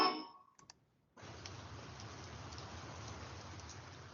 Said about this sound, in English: A dark, heavy rain settles over the city as Lieutenant Max Mattox walks slowly down